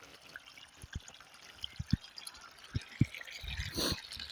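Water is poured into a soil planting hole prepared for a vineyard, giving soft splashes and drips with a few sharper plops, then a brief trickling gush near the end, all quiet and close.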